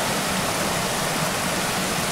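Fast-moving stream water in Elan Valley rushes in a steady, dense broadband wash, close and continuous throughout with no breaks and no voices.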